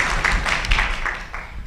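An audience at a business forum event applauds, a steady wash of moderate clapping that continues throughout without anyone speaking.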